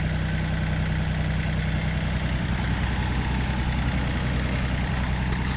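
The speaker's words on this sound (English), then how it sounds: "it's so noisy over there by the tractor" A tractor engine idles in a steady low rumble with a constant mechanical hum, heard from a short distance and running unchanged throughout without any talking.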